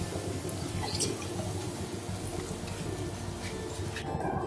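Water pours into a pot of mutton gravy in a home kitchen, making a continuous close splashing and trickling that ends abruptly.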